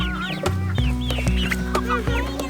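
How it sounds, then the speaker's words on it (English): Several chickens cluck and chatter nearby in overlapping, rising calls, over a low steady mechanical hum, with the birds close and fairly loud. "the chickens are by the fence though"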